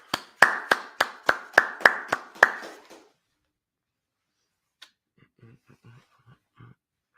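Group clapping during a Sabbath service: about eight sharp, evenly spaced claps in a quick rhythmic burst, followed by near silence with a few faint, distant murmurs.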